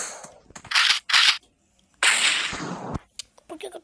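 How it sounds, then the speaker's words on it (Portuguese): Rapid gunfire bursts in the video game Chicken Gun, two short loud volleys then a longer crackling burst, followed by scattered faint clicks. "Por que eu tô atirando assim?"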